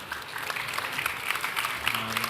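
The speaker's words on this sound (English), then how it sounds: "Can we have a big round of applause for our panelists" Audience applauding panelists at the close of a data-culture talk, a fairly faint, steady wash of clapping from a crowd.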